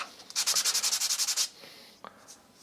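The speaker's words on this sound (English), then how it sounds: "Let's give this a little sanding and see what it looks like." Quick, even strokes of 220-grit sandpaper rasping over wood, a steady burst of about ten rubs, followed by quiet and a small knock.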